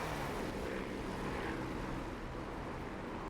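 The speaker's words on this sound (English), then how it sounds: "so it looks like we got some aircraft moving now. I just love that sound" P-51 Mustang aircraft taxi in the DCS flight game, their piston engines a steady, dense droning roar that holds constant throughout at moderate distance, with no voices.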